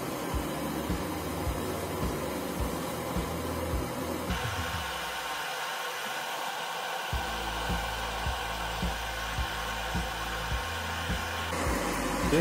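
A heat gun blowing hot air onto an old spark plug, a loud continuous close-up rush of air with a steady motor hum and a low pulsing throb, its tone shifting partway through, no talk.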